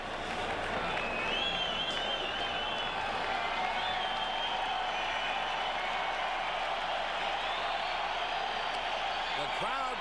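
A baseball crowd roars and cheers continuously to urge on pitcher Mitch Williams with the bases loaded, a dense sustained wash of voices and clapping that stays loud throughout.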